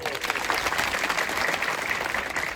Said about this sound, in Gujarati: એકવાર તાળીના નાદથી વધાવો